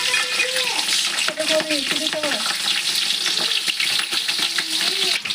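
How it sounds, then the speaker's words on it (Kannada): Mustard seeds sizzle and crackle in hot oil for churumuri made with gram flour, a steady dense frying hiss with stirring throughout, while a voice talks over it. "ಈಗ ಎಣ್ಣೆ ಕಾದತ್ ನೋಡ್ರಿ ಸಾಸಿವೆ ಹಾಕತ್ತೀನಿ ಹಾಕೈತಿ ನೋಡ್ರಿ"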